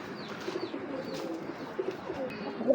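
A pair of racing pigeons from an army line coo faintly in a loft, soft intermittent murmurs over a quiet background, rising slightly at the end.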